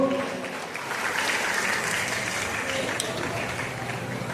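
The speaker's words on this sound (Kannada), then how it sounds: "ದ್ವಿತೀಯ ವರ್ಷದ ವಿದ್ಯಾರ್ಥಿಗಳು ಈ ಒಂದು ಕಾಣಿಕೆಗಳನ್ನು ತೆಗೆದುಕೊಳ್ಳಕ್ಕೆ ಎಲ್ಲರೂ ಜೋರಾದ ಚಪ್ಪಾಳೆ ತಪ್ಪಬೇಕು" Audience at an annual college gathering in Kalakeri village applauding second-year students as they receive gifts, with sustained, dense clapping throughout and faint voices mixed in.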